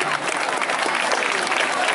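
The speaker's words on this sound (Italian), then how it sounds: "Facciamo un applauso a questi ragazzini" An outdoor audience in a town square at a dance event applauds young dancers, with dense, continuous clapping from a crowd at close range.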